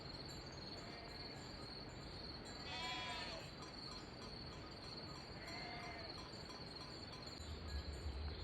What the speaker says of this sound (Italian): E qui ci sono due pecoroni.